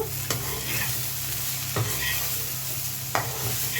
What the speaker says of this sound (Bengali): আবার একটু ভালো করে নাড়িয়ে নেব।